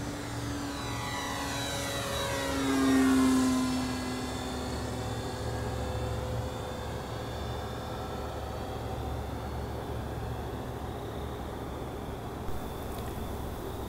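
A 55-inch balsa OMP Super Decathlon RC model airplane flies overhead, its small engine droning steadily and rising then falling in pitch as it passes, moderately loud and distant, with no talking.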